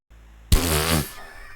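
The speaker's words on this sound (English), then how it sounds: "Just a little fart noise." A short, loud fart sound effect from the video game Maniac Mansion: one buzzy blast lasting about half a second over a faint game hum, with no voices.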